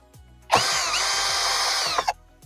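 A brushless cordless drill, IMAX IMCD-20BL, spins up sharply while driving out screws and whines steadily for about a second and a half, close and loud, then stops with a brief sputter.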